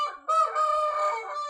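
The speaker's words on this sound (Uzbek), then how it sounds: "Mana bu 6 kilolik xo'roz." A six-kilogram purebred rooster crows loudly and close by in one long, sustained call, with no voices over it.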